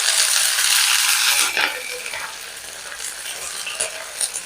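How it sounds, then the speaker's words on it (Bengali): Curry leaves spit and crackle hard in hot oil, a loud dense sizzle that eases slightly after a sharp burst midway, with a few scraping clinks; no talking. "তেলের মধ্যে কারি পাতা দিয়ে দিলাম"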